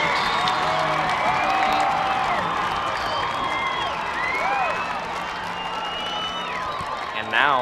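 A high school football stadium crowd roars after a touchdown, with sustained cheering, whoops and scattered whistles filling the space at a steady, loud level.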